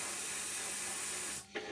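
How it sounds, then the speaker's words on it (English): An airbrush sprays paint onto an Academy F-16I SUFA model aircraft, a steady close airy hiss that runs unbroken before cutting off abruptly near the end. "you can probably hear the difference in the airbrush, that it's not pushing out gallons of paint now"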